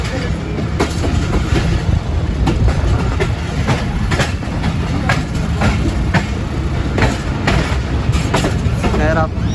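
Inside a standard-class coach of the 46DN Pakistan Express from Faisalabad, a loud, continuous rumble of the moving train with rhythmic clickety-clack of wheels over rail joints and someone talking over it.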